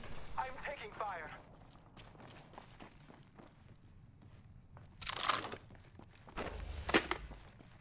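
Incoming gunfire in Apex Legends, with two sharp bursts of shots landing a couple of seconds apart against a quiet background, accompanied by voice chat.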